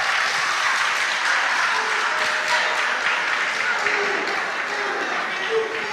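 Audience applause for a school quiz team after scores are announced at a junior high quiz contest, steady dense clapping throughout, loud and sustained with faint voices beneath.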